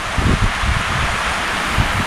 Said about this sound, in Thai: โอ้ลมแรงมากเลยครับท่านผู้ชม